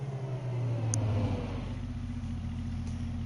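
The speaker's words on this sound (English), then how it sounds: "Suddenly, the sound of a car engine broke the silence." A car engine hums steadily, swelling slightly before settling into a low, even rumble, fairly close.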